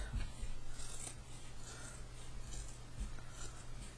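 Soft scissors snipping and rasping through fabric and zipper tape, trimming around an in-the-hoop embroidered bag in close, uneven cuts, quiet and steady with faint handling noise in between.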